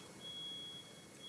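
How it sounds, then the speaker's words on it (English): A smoke detector in a house gives a faint, steady high-pitched tone that carries on without a break through a quiet room. "that's the smoke detector going off in my house"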